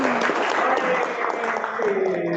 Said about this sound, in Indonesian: Oke, kasih tepuk tangan buat Alvin.